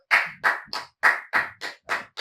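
Roughly eight sharp hand claps ring out close and loud at a slow, slightly uneven pace, each separated by short silences.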